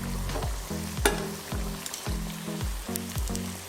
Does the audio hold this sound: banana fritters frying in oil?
yes